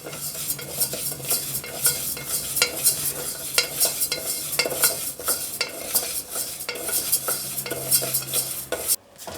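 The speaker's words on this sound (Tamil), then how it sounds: "லேசாக வறுத்து எடுத்துக்கிறேன்." Moong dal being lightly dry-roasted in a pan, stirred with a spoon in steady scraping strokes throughout, a faint sizzle underneath and a brief pause near the end, close and fairly loud with no talking.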